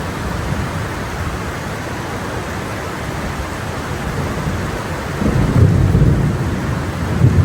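Thunderstorm in Abidjan, Côte d'Ivoire, with steady heavy rain hissing throughout and a deep rolling thunder rumble swelling in the last couple of seconds, close and loud.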